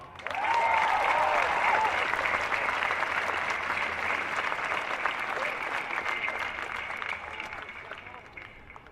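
Crowd applause at an open-mic gathering of protesters, welcoming a speaker with sustained, dense hand clapping that stays steady and gradually thins toward the end, with faint voices mixed in.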